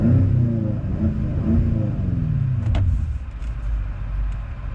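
A BMW M5 Competition revs at a standstill, its engine note rising and falling in a few sweeps before settling to a lower rumble, loud and close.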